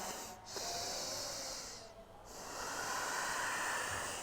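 A deep breath during yoga practice focused on the hips, heard as a long, hissing nasal inhale close to the microphone, a brief pause, then a second drawn-out airy breath, with no speech.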